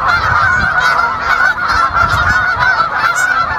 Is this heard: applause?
no